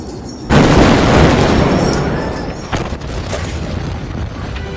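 The Beirut port explosion erupts after a brief quiet moment as a sudden massive boom, then rolls into a long, loud, rumbling roar that slowly decays, with a second jolt partway through.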